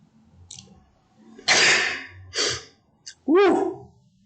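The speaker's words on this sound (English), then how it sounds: "I'm about to sneeze." A single close sneeze bursts out after a faint intake of breath, followed by a shorter breathy burst and then a voiced exclamation, all in a quiet room.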